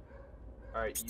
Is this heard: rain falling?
no